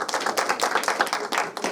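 Applause from a school debate audience for the six speakers after a Year 6/7 quarter final, a short burst of dense, steady clapping from many hands at moderate volume.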